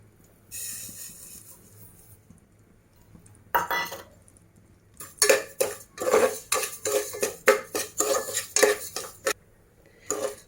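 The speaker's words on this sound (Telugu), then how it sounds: "నెయ్యి వేడెక్కాక మనం గోధుమ రవ్వ, ఒక కప్పు గోధుమ రవ్వ తీసుకున్నాం కదా, అది ఫ్రై చేసుకుందాం." Wheat semolina fried in hot ghee for a sweet dish, stirred in a pan with a burst of scraping then a quick, rhythmic run of metal spoon clinks and scrapes against the pan, close and fairly loud.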